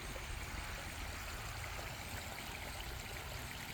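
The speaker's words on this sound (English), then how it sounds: "just bubbles all the way down to the pond" A dug brook bubbling down through small drop-offs toward a pond, a steady, even rush of flowing water heard close and unbroken throughout, with no voices.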